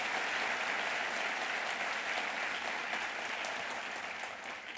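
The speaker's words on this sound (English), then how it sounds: "Let's give them all a round of applause and thank them for their great work" Audience at a state government event gives sustained, even applause, a dense wash of claps that fades slightly toward the end.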